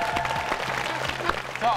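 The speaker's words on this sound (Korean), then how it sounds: "다시 한번 창조에게 큰 박수 부탁드립니다." Audience applause for a contestant on a Korean TV idol competition show: a short burst of crowd clapping with a voice talking over it.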